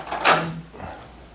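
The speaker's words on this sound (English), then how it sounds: "Let me close the door." An indoor door is pushed shut, giving one solid thud with a brief latch rattle after it, close by and followed by quiet room tone.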